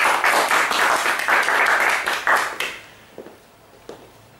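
Audience at a James Bond fan convention quiz prize-giving applauding a runner-up, a burst of many hands clapping that fades after a couple of seconds into a few scattered, isolated claps.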